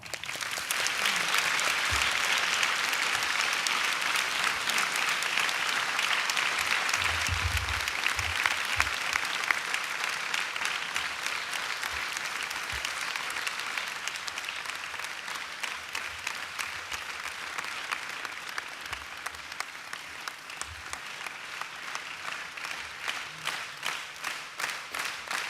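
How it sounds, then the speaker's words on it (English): A large audience at a Parthi Yatra program in Prasanthi Nilayam gives Swami a big round of applause, dense and sustained clapping that stays loud for the whole stretch and thins slightly toward the end. "we give Swami a big clap"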